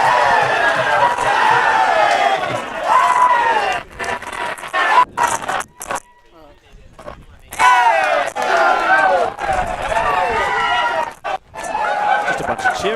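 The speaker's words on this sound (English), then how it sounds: "Just a bunch of cheering so far." A rugby club crowd roars and shouts in celebration after a Division 3 semi-final win, Knox against Coldstream, with loud overlapping cheers and chanting voices that break off briefly midway and then surge back in.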